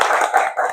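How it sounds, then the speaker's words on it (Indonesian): Brief burst of classroom applause for a student during a Quran lesson, a short, fairly loud clatter of hands lasting under a second. "tepuk tangan untuk Mas Ubay."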